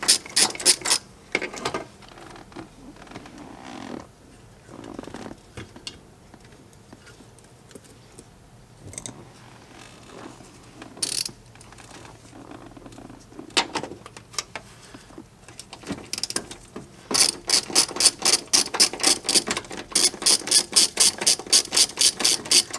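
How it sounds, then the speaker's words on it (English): Ratchet undoing 10mm dashboard bolts on a 1999-2007 Chevrolet Silverado, heard as bursts of close, rapid clicking, building to a loud, steady run of clicks near the end. "we'll undo these two bolts"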